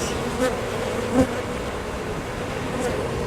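Honey bees caged with their queen give off a close, steady insect buzz that holds level throughout, with a couple of faint clicks and no talking.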